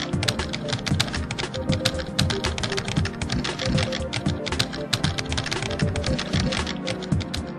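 Rapid, steady typing on a computer keyboard by a technician at a console, close and continuous with dense clicking keystrokes and no talking.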